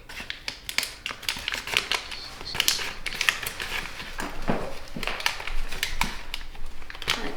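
Origami paper for a Satoshi Kamiya lyrebird model being sync folded and collapsed by hand, giving a close run of quick crisp creases, snaps and rustles, some sharper crackles standing out, with no talking.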